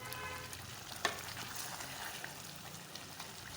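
Keema aloo, minced meat and potato, fries in ghee in a pot, making a soft, low, continuous sizzle with a faint watery bubbling and one brief clack near the start.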